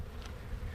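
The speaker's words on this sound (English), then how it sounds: "all these bees are just the bottom of the brood nest. They're coming up through here." Honeybees hum in a steady, close drone at the bottom of the brood nest of a hive brood box, a brief unbroken buzz with no voices.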